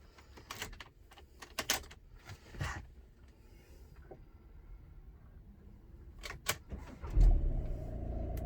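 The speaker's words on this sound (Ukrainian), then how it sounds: "Пробуємо на заводочку." A car engine cranks and catches near the end, after a series of sharp clicks and clunks from key buttons, locks and the trunk, heard close and without talk.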